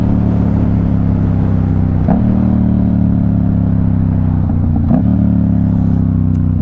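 A Kawasaki ZX6R motorcycle being ridden drones with a loud, steady engine hum, broken by brief clunks near the start and end of each stretch, like gear changes or bumps, with no voices.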